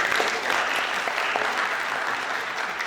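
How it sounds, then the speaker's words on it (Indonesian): Steady, dense clapping from an audience at an entrepreneurship session, many hands applauding together at a consistent level throughout with no break in the sound. "Tepuk tangan."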